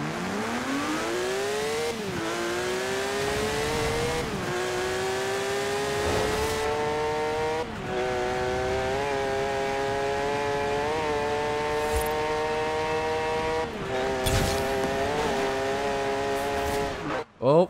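A heavily modified sleeper car in Forza Horizon 4 accelerating hard toward Edinburgh, its engine rising in pitch through several gear changes with brief drops between them. The engine stays loud and close throughout, with no pause.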